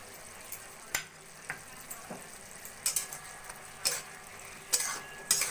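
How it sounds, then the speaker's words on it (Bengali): Chicken Manchurian balls stirred through thick gravy in a pan, a series of irregular spatula scrapes and knocks over a soft simmering sizzle, close and moderately loud. "চিকেনগুলো ভালো করে গ্রেভির সঙ্গে মিশিয়ে নেব"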